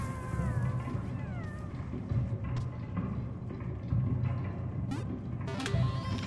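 A cat meows several times in the video game Animal Well, with drawn-out rising and falling calls over a droning game soundtrack, close and clear, without talk.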